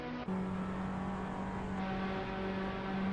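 Race cars in a Formula racing video game at Baku roar down the main straight together, a steady loud engine drone with a sustained high-pitched whine, running close enough to slipstream, no voices.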